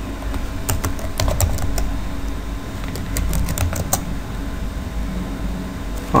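Code being typed on a computer keyboard, bursts of quick key clicks with pauses between them over a steady low hum of room noise.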